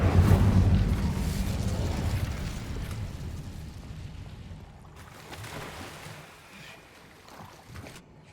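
A fire spell cast in Hogwarts Legacy bursts out as a loud whooshing blast, then fades into a softer crackling roar that lingers and thins out, with a smaller flare near the end.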